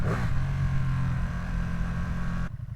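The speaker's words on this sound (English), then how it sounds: "sometimes it's still fun to use the clutch and to give it a little rev match" A Ducati Streetfighter V2 motorcycle engine revs up with a rev-matched throttle blip, then settles into a loud, close rumble before cutting off abruptly near the end.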